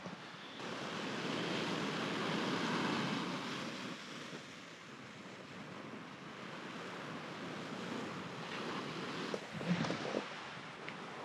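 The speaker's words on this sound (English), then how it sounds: "I hope this wind isn't too bad" Wind blows hard across Dundee Beach in the Northern Territory at sunset, a loud, broad rush mixed with surf that keeps up throughout and gusts stronger toward the end.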